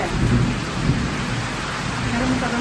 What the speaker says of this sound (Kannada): ಮಳೆರಾಯ ಬಂದ ಈ ಮಳೆ ರಭಸಕ್ಕೆ